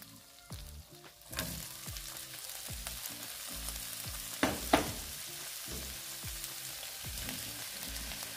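Vegetables for chicken fajitas drop into a hot pan with a sudden burst of sizzling that settles into steady, close frying, broken by a few scraping stirs and clacks of utensils against the pan.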